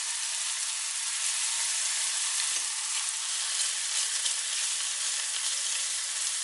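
Chanterelle mushrooms fry in salted butter in a pan, giving a loud, continuous, even sizzle with a dense crackling hiss that holds steady throughout, close up and with no voices.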